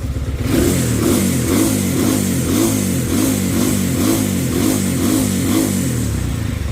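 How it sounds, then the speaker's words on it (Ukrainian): A Zongshen ZS200GS 200cc motorcycle engine revs repeatedly up close outdoors at minus 9°C, its pitch rising and falling in a series of throttle blips over a rough, pulsing idle. "Газуємо."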